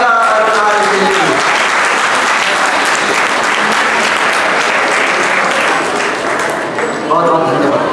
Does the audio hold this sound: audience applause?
yes